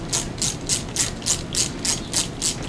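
A ratchet clicks steadily while tightening two metal bolts during a valve adjustment on a Katana 600 motorcycle, giving about eight short bursts of rapid pawl ticks in an even rhythm, close and clear with no talking.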